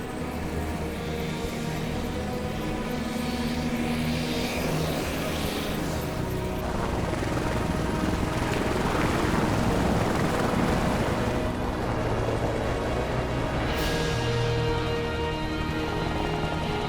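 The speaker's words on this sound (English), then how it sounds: "Air ambulance is just taking off now." An air ambulance helicopter lifts off from a highway accident scene on a remote mountain summit, a steady broadband rotor and engine roar with rushing wind, building slightly midway and continuing throughout.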